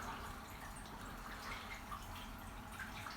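Aquarium water churning steadily from wave makers and return pumps, a continuous close wash of splashing and trickling with no breaks.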